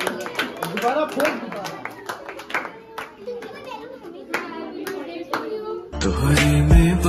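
Hands clap repeatedly in an uneven rhythm while children's voices chatter over it, with a louder, busier stretch of noise at the end.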